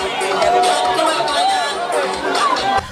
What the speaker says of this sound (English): voters kept waving and cheering at the congressman